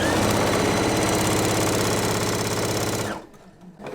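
A sewing machine runs steadily and close, stitching along a quilt seam with a fast, even mechanical chatter for about three seconds before stopping abruptly, leaving quiet.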